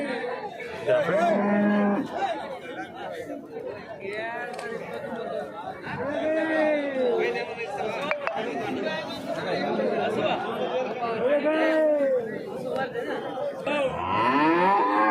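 Calves moo repeatedly at the Chintamani cattle market, several drawn-out calls near and far, amid steady crowd chatter and people talking throughout.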